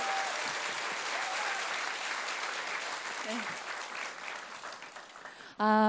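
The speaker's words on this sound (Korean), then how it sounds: "유시민 선생님을 다시 한번 큰 박수로 모시겠습니다" Audience applause welcoming Yu Si-min at a book talk: broad, sustained clapping from a seated crowd, fairly distant and even, fading slightly before a brief loud electronic tone cuts in at the very end.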